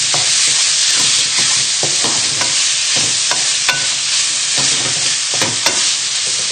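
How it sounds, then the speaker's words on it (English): Homemade Thai green curry paste frying in a pan, a loud, dense sizzle close up with repeated scraping strokes as it is stirred to coat the ingredients. "just give it a little stir around, just to get nicely coated with that beautiful paste that you've just made"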